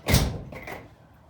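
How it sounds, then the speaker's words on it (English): A home workshop shed door shuts with a close thud followed by a softer second knock, then silence. "I'll shut the door, keep the noise down to a minimum."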